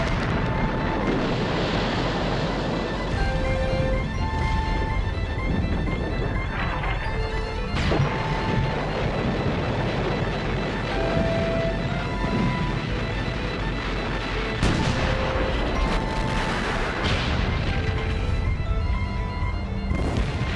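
A German artillery bombardment of British lines in March 1918 thunders without pause, with heavy booms and crashing impacts merging into a loud, dense roar across the whole stretch, and no voices.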